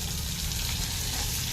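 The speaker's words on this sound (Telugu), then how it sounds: "వేసి మాడిపోకుండా గోల్డెన్ బ్రౌన్ వచ్చేట్టుగా శనగబద్దలు" Chana dal fries toward golden brown in tempering oil, giving a brief, even, close frying hiss with no voices.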